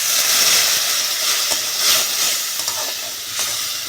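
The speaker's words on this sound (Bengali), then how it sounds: "মশলাটা ভালো করে কষে নেবো।" Spice paste with cumin powder, Kashmiri chilli, salt and a splash of water frying and being stirred in a pan for a fish and potato curry, a continuous bright sizzle with occasional scraping strokes, steady and close.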